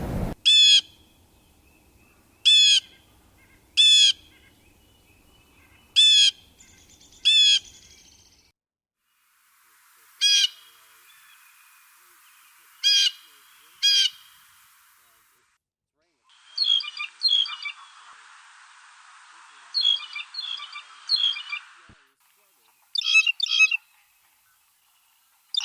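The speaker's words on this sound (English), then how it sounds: "So like most birds, the blue jay has a call that it makes." Blue jay calls recorded outdoors: sharp, harsh repeated jeers in quick pairs and triplets, then a softer, buzzier stretch of squeaky calls, with quiet gaps between bursts.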